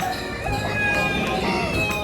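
A rooster crows loudly and close by, one long drawn-out call with clucking fowl around it.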